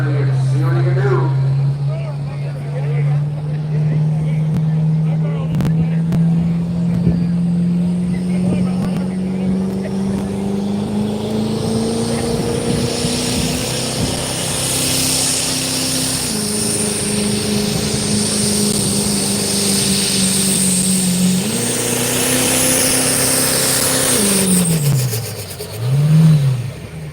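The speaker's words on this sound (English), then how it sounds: "As the Duramax spools up with Josh Zimmerman, you see what he can do." At an outdoor diesel truck pull, a Duramax diesel truck engine drones loudly and climbs steadily in pitch as it spools up under strain for the whole stretch, while an announcer talks over it.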